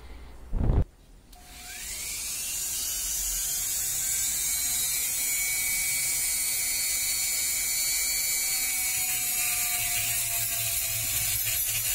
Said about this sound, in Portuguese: preferi cortar com a mini retífica porque trepidava menos